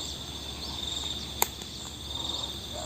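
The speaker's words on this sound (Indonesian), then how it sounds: "Jangkrik ini." A cricket chirps with a steady high pulsing trill, close and clear, over a quiet outdoor background broken by one sharp click midway.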